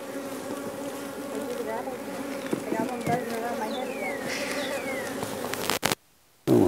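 Honey bees buzz steadily around an open hive during an inspection near a beetle trap. The dense, close drone runs throughout with faint voices underneath, and it cuts out abruptly near the end.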